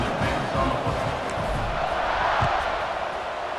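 A college football stadium crowd at Florida State vs Maryland, just before a kickoff following an extra point, roars as a steady, loud wash of massed voices with a few sharper shouts and low thumps.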